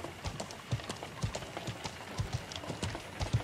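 A horse's hooves clip-clop steadily on the ground in the medieval online game Feudal MMO, an even rhythm of soft, close thuds over a faint hiss of background noise.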